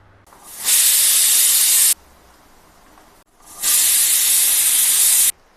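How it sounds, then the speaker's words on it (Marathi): A pressure cooker steaming sweet potatoes on a gas stove lets out two loud, sharp hissing whistles, each about a second long, separated by a quieter pause. "3 शिट्या झाल्या, गॅस बंद करते."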